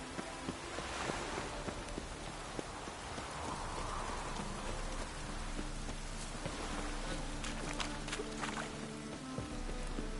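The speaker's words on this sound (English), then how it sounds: "It only ever rains these days." Steady rain pours throughout a city scene in the video game The Witcher 3: Wild Hunt, a dense, constant hiss of drops on surfaces with a few brighter splashes and what may be footsteps mixed in.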